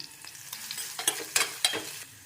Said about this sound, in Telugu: ఇందులో పోపు, పచ్చిమిరపకాయలు, కరివేపాకు, ఎండుమిరపకాయ ఒకటి వేసి వేయించుకుందాం.